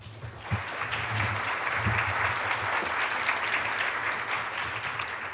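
An audience at a lupus patient-focused drug development meeting bursts into steady, sustained applause to welcome a speaker, a dense even wash of clapping from start to finish.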